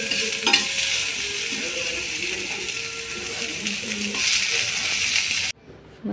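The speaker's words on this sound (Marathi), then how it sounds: "या पॅनमध्येच आता खिचडी बनवते मस्त" Khichdi cooking in a pan, with steady broadband frying and stirring noise, a few scraping clinks of a utensil against the metal, and a sudden drop to near quiet in the final moments.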